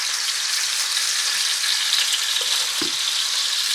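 Chicken breasts browning in a hot pan give a steady, close broadband sizzle throughout, with a brief soft knock of a utensil near the end and no talking.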